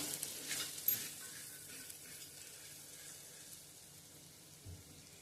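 Turmeric sautéing in a pan for tomato pulao gives a soft, faint sizzle with light stirring scrapes, steady and quiet with no talking.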